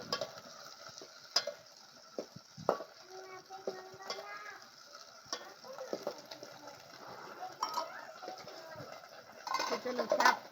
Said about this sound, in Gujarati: તો ચલો શાક તો તેલમાં થવા દેશો.